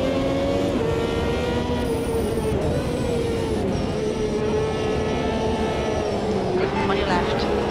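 Ferrari 333SP race car engine in the Automobilista 2 racing game, a steady sustained drone with shifting pitch held throughout, loud and close, with a voice talking over it.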